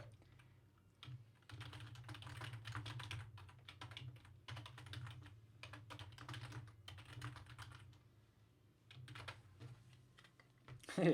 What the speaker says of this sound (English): I just hit my keyboard on numbers until I have 4 digits